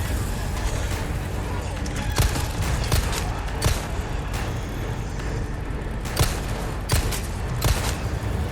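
Gunshots boom at spaced intervals during a Resident Evil 4 Remake boss fight, cutting through a dense, rumbling game soundscape while a narrator talks throughout.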